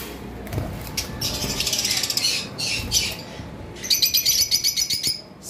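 Lovebirds in a cage chirp and squawk in shrill bursts at close range, ending in a fast run of repeated sharp calls.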